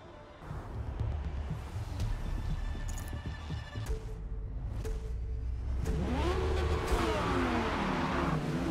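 Race car engine in a Forza GT-class online race, loud and steady at a full-throttle standing start, the pitch climbing and wavering as it revs up, with other cars droning close alongside.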